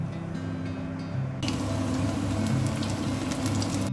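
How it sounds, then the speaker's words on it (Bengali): Cabbage and chicken pakoras deep-frying in oil make a steady crackling sizzle that grows denser and louder partway through, with no talking. "তো বাকি সব এবার ভেজে নেব"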